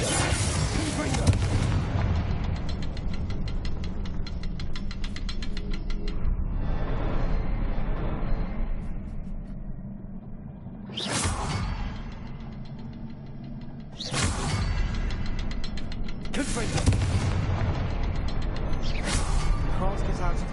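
Explosive Bombarda and Confringo spells in Hogwarts Legacy burst as several loud, sharp blasts spread across a busy game soundscape of music and effects, with a voice talking at times.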